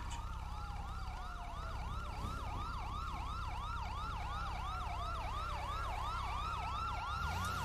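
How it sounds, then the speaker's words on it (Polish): A wailing ambulance siren in the video game Grand Theft Auto V sweeps up and down in a fast, regular rhythm, steady and continuous over a low engine hum. "Jedzie jakaś karetka"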